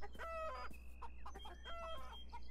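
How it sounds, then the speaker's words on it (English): Chickens cluck and squawk busily inside a fenced pen in the video game Beyond Eyes, several birds overlapping in quick, close calls over a steady low hum. "I'm assuming they're chickens."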